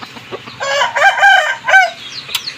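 A fighting cock crows loudly and close by, a single strained, stretched call broken into rough segments, with a few clucks and short bird sounds before and after.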